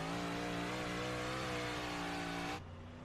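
Big Block Modified race car engines in the iRacing sim scream at a steady high pitch with a rich harmonic drone, holding near and loud before dropping abruptly to a lower, quieter tone near the end.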